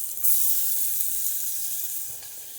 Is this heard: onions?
yes